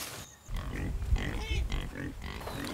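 Hungry pigs grunt and oink nonstop at close range while waiting to be fed, a dense, busy chorus of snorts that fills the whole stretch.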